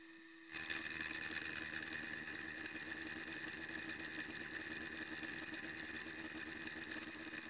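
Steady mechanical whine of a milling machine cutting the main slider slot for the ram into a metal body for an auto retracting thread cutter, starting abruptly after a brief quiet moment and running evenly and continuously to the end.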